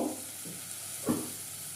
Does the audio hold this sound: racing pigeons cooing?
no